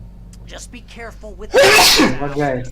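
A loud, close sneeze bursts out after a short stretch of speech while Alan Wake Remastered is played, followed by more talking.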